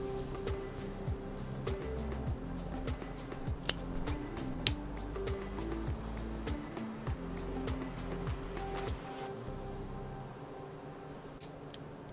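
A premium cigar gets cut before lighting, with sharp snipping clicks and small ticks close up over a soft background hiss, including a couple of louder cuts partway through.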